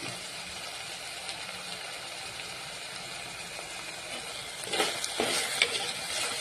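Curry leaves sizzle in hot oil while being stirred in a pan for a Kerala-style karimeen (pearl spot fish) curry: a steady close crackling hiss, with louder scraping stirring bursts near the end.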